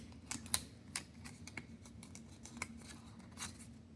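Tape being torn and pressed onto a paper ring for a handmade 3D paper flower bouquet container, heard as a series of soft, close crinkles, clicks and sticky rustles spread unevenly over a quiet background.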